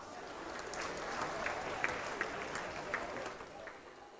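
Sustained audience applause fills the whole stretch at a steady level, with scattered louder individual claps standing out, at a formal gathering or public event.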